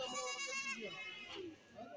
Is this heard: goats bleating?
yes